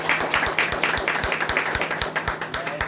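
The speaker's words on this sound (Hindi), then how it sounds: "उसके लिए ताली हो जाए इन लोगों के लिए" Hearty applause from a crowd at a retirement ceremony for a substation foreman, with dense clapping and sharp individual claps keeping a steady rhythm throughout. It is loud and close, with no talk.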